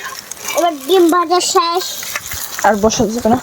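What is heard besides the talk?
eggs frying in a pan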